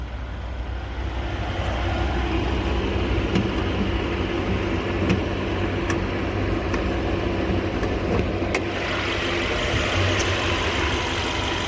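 Turbocharged 2.0-liter inline-four in a 2020 Mercedes-AMG A35 idles steadily, a constant low rumble with a faint whine on top, close and unbroken the whole time.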